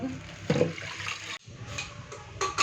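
Lentils (dal) are rinsed in water in a home kitchen, giving sloshing and swirling splashes in two bursts separated by a short pause, heard close with no talking.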